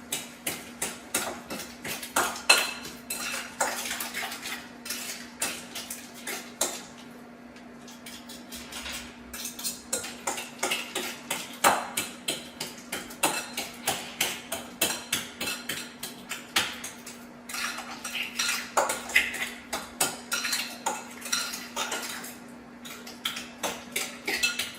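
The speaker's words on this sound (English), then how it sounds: "And then mix in the egg." A utensil repeatedly clinks and taps against a bowl while an egg is mixed into mashed banana for banana chocolate chip muffin batter, a quick uneven rhythm of sharp knocks with short pauses, fairly quiet and close.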